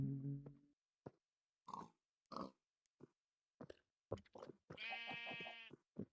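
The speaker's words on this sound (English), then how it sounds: "Sheep." Sheep bleating in the Minecraft video game, a short series of separate bleats with gaps between them, ending in a longer, louder tonal bleat, with no talking over it.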